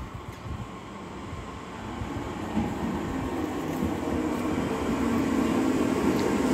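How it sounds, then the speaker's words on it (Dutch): A Dutch SGMm train, unit 2951, rolls steadily along the rails toward Meppel with a continuous, heavy rumble that slowly grows a little louder. Nobody speaks. "En met treinstel 2951 gaan we naar Meppel"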